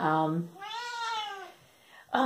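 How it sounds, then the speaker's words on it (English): A cat meows twice, a long rising-falling cry followed by the start of another, close and fairly loud with a brief quiet between. "and she's meowing"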